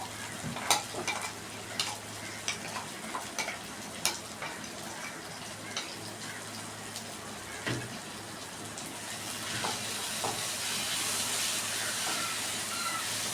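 Ground masala paste and three tomatoes fry in a pan for a kingfish pollichathu curry, with steady close sizzling and hissing broken by repeated scraping stir strokes, growing louder and more continuous toward the end; no talk.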